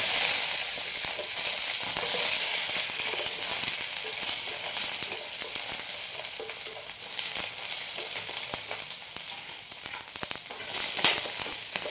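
Shallots frying with garlic in hot oil for a Saravana Bhavan-style chutney, a steady bright sizzle and crackle running throughout, close and loud with occasional stirring.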